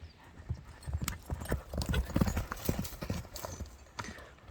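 A ridden horse, a rider's own ulak horse, clip-clops over the ground in quick, irregular hoof strikes close by, with faint voices in the background.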